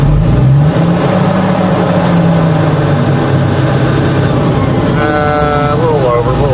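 Construction equipment engine revs under load during a torque converter test in second gear forward, a loud continuous engine drone with a brief rising whine near the end, while people talk over it.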